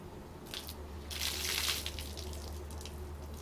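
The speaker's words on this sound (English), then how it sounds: "to dump the ice water bucket challenge" Ice water dumped from a bucket for the ALS ice bucket challenge, a steady rushing splash that swells in the middle and then settles into continuous pouring and dripping, close and alone.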